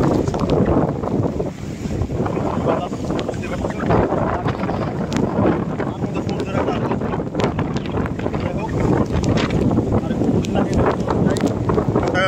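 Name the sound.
strong cyclone wind at the Padma river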